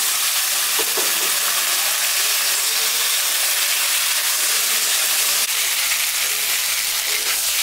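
Boiled air potato dropped into a hot pan for a fish-head curry, a loud, continuous close-up sizzle and hiss of frying, with a few faint knocks as it settles.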